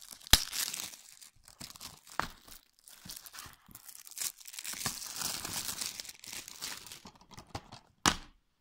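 Packaging holding a CD is torn, crinkled and cut open with a knife, giving close, fairly quiet bursts of ripping and crumpling with sharp snaps and gaps between them.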